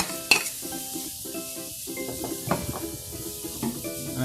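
Carrots and mixed vegetables sautéing in a pan for lumpiang sariwa, a steady sizzle broken by utensil stirring and scraping sounds.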